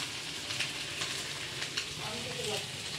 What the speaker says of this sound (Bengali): রান্না হচ্ছে ভেন্ডি ভাজা,